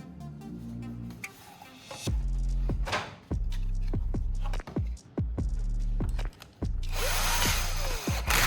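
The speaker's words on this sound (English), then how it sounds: "Next, I'll drill a hole near the top of the bottle so it can be hung." A power drill bores a hole near the top of an empty plastic shampoo bottle, with a few bursts of whirring separated by short pauses and a loud, close grinding at the end.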